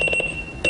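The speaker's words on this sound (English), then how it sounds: "Annoying alarm clocks are a horrible way to start the day" An annoying alarm clock rings in rapid, piercing electronic beeps over a constant high tone, with a quick burst of pulses, a short gap, then the beeping starting again.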